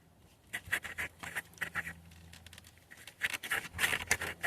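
Cutting through a Detroit 60 Series heater hose, a series of short, close snips and crunching scrapes in uneven bursts, quiet overall with brief pauses between cuts.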